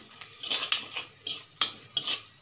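Ground cumin and coriander powder frying for goat leg sherva, heard mainly as a series of sharp metallic spoon scrapes and clinks against the pan over a faint sizzle, about six strokes in quick succession.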